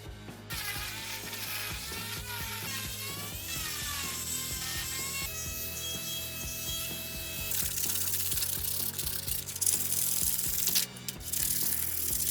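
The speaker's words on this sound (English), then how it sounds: "We gotta sand this whole thing." Scrap-wood weight rack being sanded, a steady mechanical grinding with rattling, ratchet-like textures running continuously and fairly loud, with no talking.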